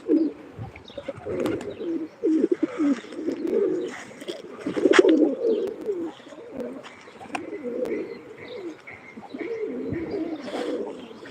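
Soft cooing of pigeons, repeated low calls with a few flutters and chirps, fairly close and alone.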